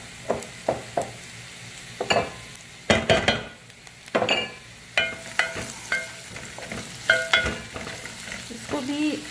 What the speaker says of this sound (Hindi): इसको भी हल्का सा फ्राई कर देंगे।